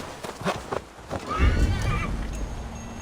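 A horse whinnies in Assassin's Creed Valhalla in a wild Gloucestershire forest, a loud nearby neigh following a few hoof clops and rustling.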